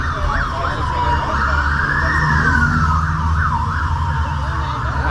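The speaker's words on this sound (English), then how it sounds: "And behind me, that's a couple of ambulances that are ready in case things go wrong." Ambulance sirens wail near Horse Guards in London, a steady rising and falling two-tone cry held for the whole stretch over low traffic rumble, close and loud with no talk.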